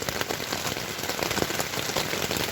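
Heavy rain patters densely on a small tent's taut fabric close by, a constant drumming of drops with no talking.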